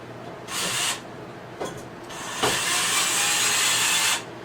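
Screws and bolts being fitted into a metal Mainstays Alexandra three-piece patio set during assembly, with rubbing and scraping bursts of handling, a short click, then a longer sustained scrape, close by with no talk.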